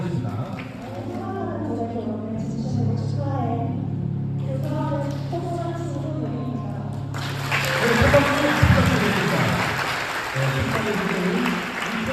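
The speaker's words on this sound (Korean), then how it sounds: "여러분 축사자를 큰 박수로 모셔보도록" In a wedding hall, guests break into loud, sustained applause to welcome a wedding speech giver, following a host talking over music.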